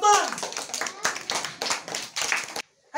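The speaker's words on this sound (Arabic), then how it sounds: "تصفيق حال الطالب محمد قطان." Children applaud a young student in a classroom, a burst of quick, dense hand claps lasting about two and a half seconds before stopping abruptly, with a short clap resuming at the end.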